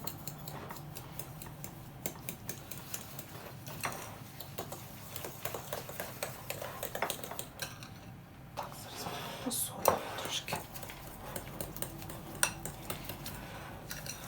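A fork whisks sugar into cake batter in a bowl for banana semolina cake, giving a steady run of quick light clinks and scrapes close by, with a voice speaking now and then over it.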